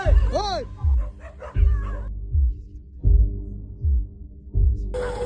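Street dogs bark in a few sharp bursts and a whine at the start while a vehicle turns back at them, over a steady rhythmic low thumping that repeats throughout.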